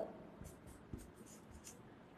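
Pen or marker scratches across paper or a board in short quiet strokes, several brief scribbles close by and faint.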